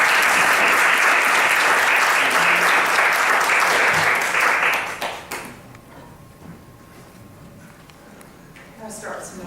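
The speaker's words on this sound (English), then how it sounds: "Let's give her a round of applause." An audience applauds loudly and steadily for about five seconds, then the clapping fades into a quieter room where a few scattered sounds and a voice follow.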